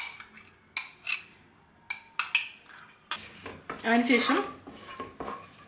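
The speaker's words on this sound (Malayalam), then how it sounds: "നന്നായിട്ട് ഇതുപോലെ ഒന്ന് മിക്സ് ചെയ്യാം കേട്ടോ" A spoon clinks and scrapes against a pan while yogurt masala is mixed into brinjal curry, sparse knocks at first then a denser burst of stirring; a voice speaks briefly.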